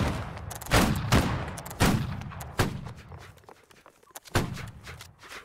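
Musket fire from a line of infantry in the Napoleonic-era game Holdfast: Nations At War, scattered loud cracks fired at will at irregular intervals, each followed by a rolling echo, with faint shuffling between shots.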